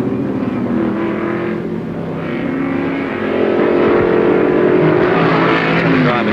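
Improved production touring cars race around the Warwick Farm circuit in 1973, engines roaring loud and steady as the pack passes. A commentator talks over the din.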